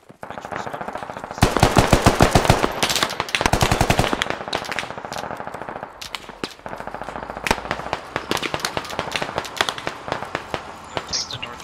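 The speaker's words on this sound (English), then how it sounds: "Hearing shots from Charlie?" Video game gunfire, with rapid automatic bursts and scattered single shots crackling sharply and loudly in clustered volleys, separated by brief pauses.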